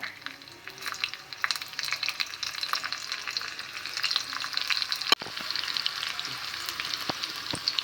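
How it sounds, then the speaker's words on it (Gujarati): Green chillies hit hot oil for a tempering over steamed khaman idli, crackling and sizzling close up in a steady fizz with scattered sharp pops and a stirring clatter, no talking. "સરસ એવો ટેસ્ટી વઘાર કરવાનો છે"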